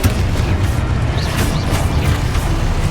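Confringo blasting spell in Hogwarts Legacy, a dense burst of booming explosive impacts and rumbling effects filling the short stretch, loud and continuous with no speech.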